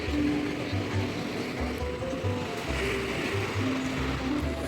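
Sea waves wash onto a beach in Odesa, a constant rushing surf with low rumbling undertones, heard alongside some mechanical hum from the busy shoreline.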